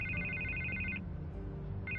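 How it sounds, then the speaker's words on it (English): An electronic telephone ringtone trills in two bursts separated by a pause, moderately quiet over a low background hum. "I can't get the phone to stop ringing."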